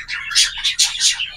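Cockatiels chirping in a series of bright, close tweets that come in quick bursts and stay lively and fairly loud throughout.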